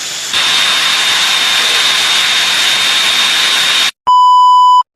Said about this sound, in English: Now let's compare the fan noise levels of these two devices side by side.